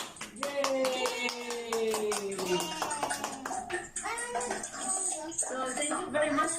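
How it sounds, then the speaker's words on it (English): Participants in a live online slime-making science session clap, a busy patter of hand claps blending with cheerful voices and a rising whistle-like tone, continuous and moderately loud throughout. "let's have a applause for everyone"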